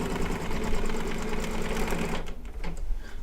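An embroidery machine stitches a Mylar design in a steady, fast mechanical whir with dense needle chatter, holding level before a brief softer stretch near the end.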